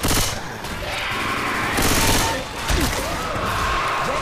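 Sustained gunfire from several weapons in Left 4 Dead 2, with overlapping bursts and crackling volleys that swell and dip, loud and near, with some faint voices underneath.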